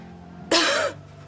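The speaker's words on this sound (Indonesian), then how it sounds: "Saya cuma batuk sedikit kok" A woman gives a single short, fairly loud cough close by, a burst lasting about half a second that rises out of a quiet indoor room.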